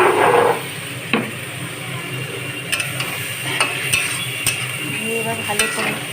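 Chopped tomatoes, tomato paste and spices frying in a pan, stirred with a utensil: a steady sizzle throughout, with several light clinks and taps of the spoon against the pan, close and moderately loud.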